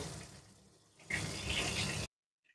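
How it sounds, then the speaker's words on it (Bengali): A small splash of water hits potato and squash frying in a pan with chopped tomato, a short, moderately loud hiss and pour lasting about a second before stopping abruptly. "অ্যাড করে দেওয়া হচ্ছে সামান্য জল"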